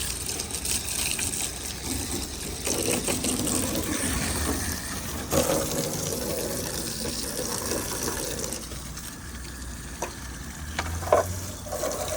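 Garden hose spray rinsing lemon-scented cleaner off the coils of a Rheem central air conditioner outdoors, a steady broadband hiss of running water lasting throughout with small splashing variations.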